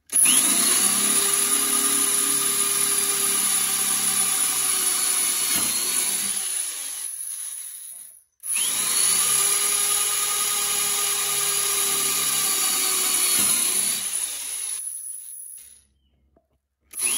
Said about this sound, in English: I went to a power drill rather than my battery operated drill